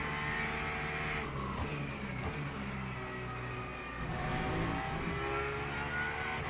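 LMP3 prototype race car at Imola in a racing video game, engine revving loudly as it passes close by, pitch climbing and falling through the gears with no talking.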